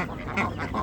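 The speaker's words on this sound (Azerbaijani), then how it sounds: "Və bu ördək qaz." Ducks and geese at a poultry and bird market in Ganja let out a few rough, nasal quacks and honks in quick succession, close and fairly loud over market din.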